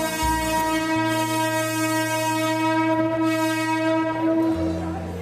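A train at Mumbai's Chhatrapati Shivaji Maharaj Terminus sounds its horn in loud, sustained blasts while wheels rumble steadily through the busy station.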